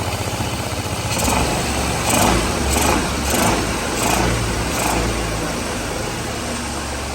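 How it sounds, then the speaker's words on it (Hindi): A scooter engine idles with a steady low rumble, rising in a few brief surges, close by with no talk over it. "स्कूटी हो गई स्टार्ट, रेडी हो गई स्कूटी"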